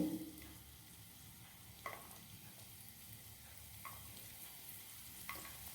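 Chopped garlic and ginger frying in a wide pan over high flame, a faint steady sizzle broken by a few soft spoon taps, quiet and alone.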